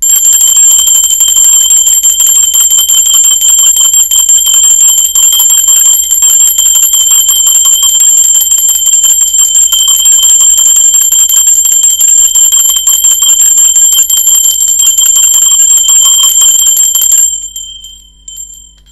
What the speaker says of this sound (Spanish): va campana, Sardivino, a concentrarte